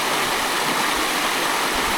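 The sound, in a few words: clear stream water flowing near Katahdin Stream Campground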